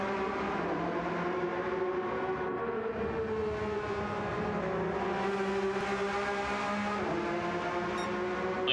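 GT race cars lapping Laguna Seca in a racing video game, engines droning and shifting pitch as they climb and fall through the corners, a steady continuous roar of several cars with no voices over it.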